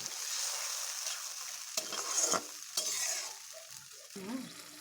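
A dal mixture fries in a pan just after amchur goes in, a constant bright sizzle with several spatula scrapes and stirs cutting through, close and clear with no voices.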